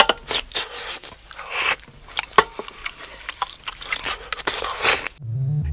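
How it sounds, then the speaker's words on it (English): Wet, squelchy eating sounds from a 1974 film soundtrack, with smacking, slurping and dripping noises tumbling closely together, loud and unbroken, before a low hum takes over at the very end. "Not quite as bad as the sound of eating."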